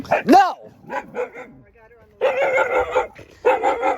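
A dog barks in short bursts near the start, followed by voices talking over a noisy, busy background.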